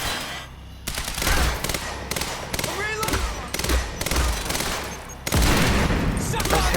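Rapid bursts of advanced SMG fire with hit marker sounds from the video game Quantum Break, repeated volleys at steady loud level amid game effects and some voices.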